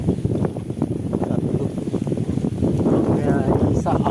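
Strong typhoon wind gusts roar and buffet the microphone in a rural Philippine area with coconut and fruit trees, continuous and loud with flapping, rushing noise while someone speaks over it.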